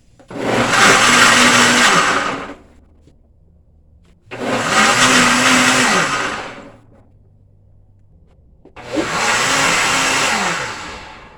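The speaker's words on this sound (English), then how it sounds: "the coconut is in my blender, and I put some water on it, and I'm gonna blend" A blender runs in three loud bursts of about two to three seconds each, whirring and churning coconut and water, separated by short pauses of near silence.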